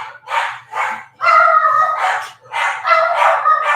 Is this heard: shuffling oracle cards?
no